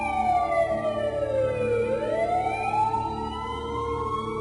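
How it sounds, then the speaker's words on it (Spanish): An ambulance and a police car wail with sweeping sirens that dip and rise again, loud, close and continuous, with no other sounds on top. "volví a escuchar algo, una ambulancia, una patrulla de policía"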